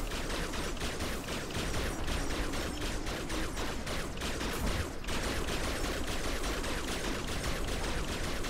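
Rapid automatic fire from a machine-gun-like weapon in LEGO Marvel's Avengers, a dense, continuous stream of shots that keeps up throughout, loud and steady with a brief heavier burst midway.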